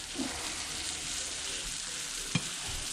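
Breaded crappie and perch fillets fry in hot oil with a steady, dense sizzle that runs unbroken throughout, with a single brief clack near the end.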